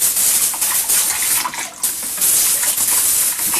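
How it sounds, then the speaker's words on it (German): Water rinsing through an airbrush gun between paint colours, a steady close hiss and gush that dips briefly in the middle and then keeps running, with no talking. "ich spüle noch mal kurz durch"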